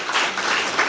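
A crowd at a mosque felicitation event for school toppers claps for the management committee, with steady, loud applause filling the whole second.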